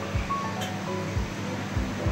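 Milk is added bit by bit and whisked into milk powder for rabri, making close, rhythmic swishing strokes roughly every half second.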